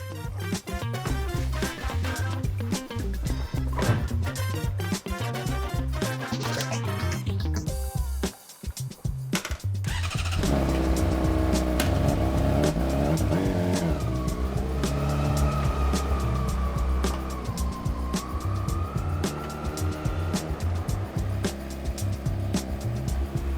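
A 600 RR motorcycle engine cranks and catches about halfway through, then settles into a steady, throaty idle with slight rises in revs. Other noise comes before it starts.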